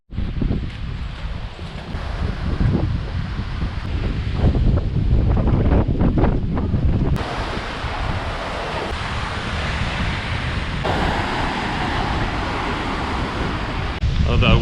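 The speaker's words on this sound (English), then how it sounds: "the waves are super loud" Lake Superior waves crash onto the beach shoreline at Pictured Rocks, a loud, continuous broadband roar of surf mixed with gusty wind buffeting the microphone, heard up close without talking.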